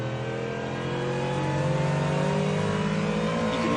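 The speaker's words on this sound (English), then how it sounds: "You can listen to that little bit of wheel spin." A Cadillac hypercar on slick tyres at the 2024 24 Hours of Le Mans, its engine droning loud and close with a steady, slightly rising pitch as it accelerates under wheel spin.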